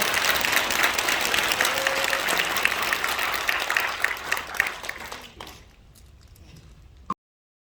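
Dense applause from an audience at a political rally in Korea runs strong for about five seconds, then thins to scattered claps and fades to quiet.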